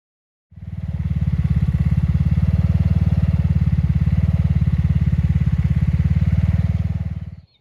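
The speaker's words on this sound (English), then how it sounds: "1720 Ford New Holland." A Ford New Holland 1720 two-wheel-drive tractor engine starts and runs steadily with a loud, rapid low chugging throb for several seconds, then cuts off.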